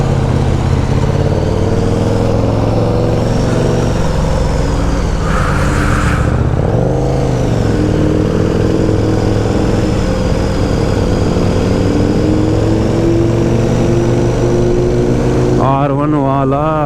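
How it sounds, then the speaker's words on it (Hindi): A loud Yamaha R1 motorcycle exhaust roars nearby in traffic, joined by a car engine's steady drone, with voices talking over the engine noise and a brief rise in revs near the end. "R1 वाला एग्जॉस्ट बड़ा लाउड है बंदे का"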